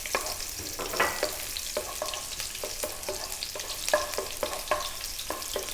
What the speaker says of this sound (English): I've got a little bit of oil in there, heating it up nice and hot. I've got a tablespoon of chopped garlic.